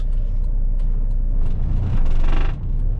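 Inside a 1998 Renault Kangoo 1.9L diesel while driving, a loud, steady low engine drone and road rumble fill the cabin, swelling briefly as the engine works harder.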